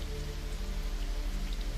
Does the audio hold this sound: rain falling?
yes